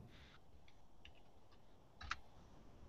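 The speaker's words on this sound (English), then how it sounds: "just start typing Elkhart" A few keys tap on a computer keyboard in short, irregular bursts close by, with one sharper click near the end.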